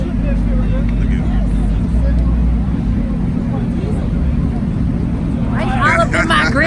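A Dodge Charger Hellcat idles with its hood up, a deep steady rumble running throughout, while people talk and chatter nearby over the engine.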